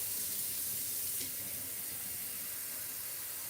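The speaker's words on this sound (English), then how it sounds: "let's add our water." Water runs steadily from a tap into a cooking pot in a home kitchen, a continuous close hiss and splash with no voices.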